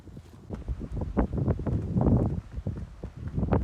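Gusty wind, gusting past 25 miles an hour after a low pressure system, buffets the microphone in uneven surges and rustles nearby, loud and continuous with no talking.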